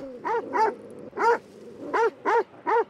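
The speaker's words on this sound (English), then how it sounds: "Can y'all go away, please? I don't want to kill poor dogs." Dogs in the video game Red Dead Redemption 2 give six short sharp barks in uneven bursts, moderately close, with no talk over them.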